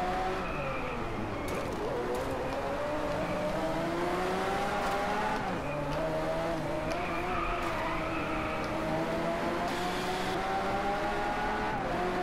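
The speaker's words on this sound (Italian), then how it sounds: "Il suono secondo me si avvicina a quello della Lamborghini vera." A Lamborghini Aventador LP 720-4 engine in the racing game Driveclub roars continuously, rising and falling in pitch through gear changes and revs, loud and close, with brief tire squeal.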